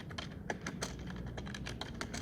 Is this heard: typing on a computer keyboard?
yes